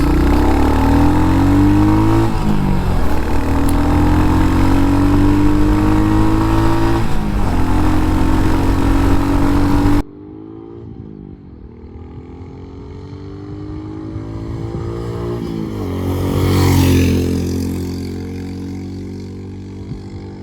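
A Royal Enfield Hunter motorcycle accelerates in third gear on an open road, its engine note climbing loud and close before dropping to a quieter, breathier drone that swells again as the pitch rises.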